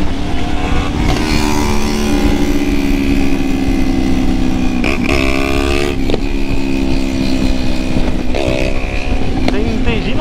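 A motorcycle riding on a road near tunnels on the way to the beach, its engine droning loudly and steadily throughout with shifts in pitch as it changes speed, with some wind noise.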